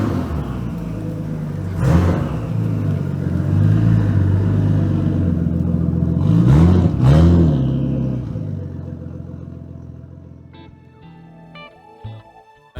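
A Nissan Skyline R33 fitted with a Greddy intercooler drives past with a continuous engine rumble. It rises into two revving pulls as it accelerates, then settles and fades toward the end.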